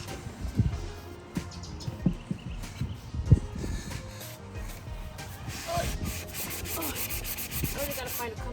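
Intermittent scraping and rubbing of a hand-held sanding block on wooden furniture, irregular strokes with occasional louder knocks, faint and close, with light background noise.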